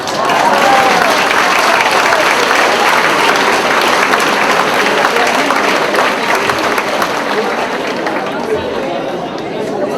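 Loud crowd applause after a blessing at a centenary celebration of a women's farm circle, dense sustained clapping with murmured chatter mixed in, tapering slightly toward the end.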